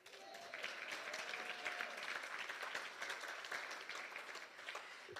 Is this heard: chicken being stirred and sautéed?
no